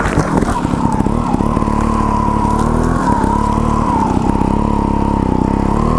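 Gas Gas TXT 280 trials motorcycle engine running steadily up close, a loud continuous drone with slight pitch wavering and no pauses or talk.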